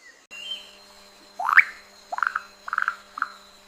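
Poison dart frogs in the Amazon rainforest give a series of four or five short, loud croaking calls in quick succession, close by, over a faint steady background hum.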